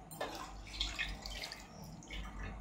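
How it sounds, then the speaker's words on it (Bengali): Cold water runs and splashes over boiled chowmein noodles being rinsed, a soft close trickle with light drips, fairly faint and brief. "ঠান্ডা জল দিয়ে ধুয়ে নিচ্ছি যাতে একের সাথে একে না আটকিয়ে না যায়"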